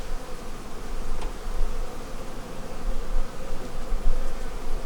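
Honeybees drone in a steady, dense buzz inside a failing hive with a suspected laying worker, heard close and continuous with no voices.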